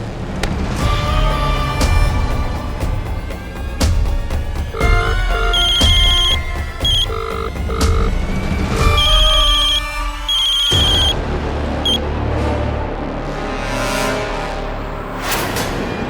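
A phone ringtone chimes repeatedly in loud electronic bursts, ringing in a patterned melody with short gaps between rings.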